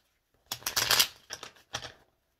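Tarot cards are riffled and shuffled close by: a dense flurry of flapping card noise, then two shorter bursts, with no talking over them.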